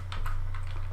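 Keystrokes on a computer keyboard as a command is typed into a command prompt, a quick run of close, soft clicks over a steady low hum.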